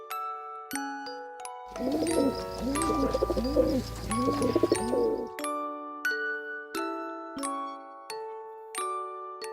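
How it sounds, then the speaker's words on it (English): Pigeons cooing in a soft, repeated rhythmic phrase, set between bright chiming bell notes that play before and after. "Pigeons."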